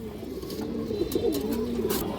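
A male high-flyer pigeon coos close by in a low, rolling, throaty warble, repeated several times over a faint background hiss.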